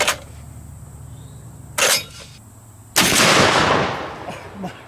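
A sniper rifle fires a blue-tip incendiary round into adjustable weight plates: a sharp, loud crack rings briefly, then a second, heavier blast follows with a long, roaring decay that fades slowly.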